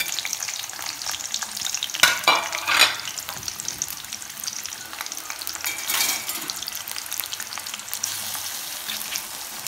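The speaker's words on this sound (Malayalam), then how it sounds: "എണ്ണ ചൂടായിട്ടുണ്ട് നമുക്കിനി ഉള്ളി വറുത്തെടുക്കാം" Onions sizzle and crackle in hot oil for the chicken dish, a steady close-up frying hiss with a few louder bursts and stirring scrapes, and no speech.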